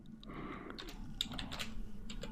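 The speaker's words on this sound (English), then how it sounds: "I'm going to type in" Quick, steady keystrokes on a computer keyboard, close and clear, typing a short entry with no talk over it.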